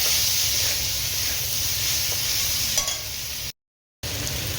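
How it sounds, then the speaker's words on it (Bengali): Chili paste and tomatoes sautéing in a pan for chole, a steady close sizzle with stirring scrapes throughout, briefly cut to silence near the end. "লঙ্কা বাটা দিয়ে এটাকে কষা হচ্ছে।"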